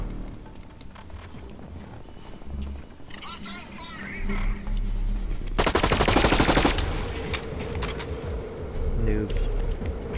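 Automatic gunfire in the first-person shooter Blacklight Retribution, rapid bursts over a steady game din, with one loud dense volley in the middle and further shots afterward; someone talks over it.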